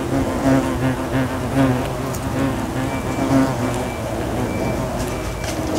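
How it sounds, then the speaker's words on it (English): Hornet buzzing right at the microphone near a hornet nest, a loud fluctuating drone that wavers in pitch as the insect moves around, continuous for several seconds with no talk. "just slightly distracted by the hornet perching on my right ear"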